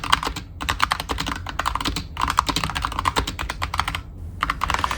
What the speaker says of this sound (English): Now I'm gonna let you hear in on what the same switch type, so red switches, sounds like from a RAZER keyboard.